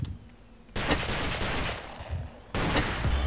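Pistol shots in the first-person shooter Ace of Spades, several loud, dense bursts of gunfire close by, with sharp onsets near the start and end of a busy game soundscape.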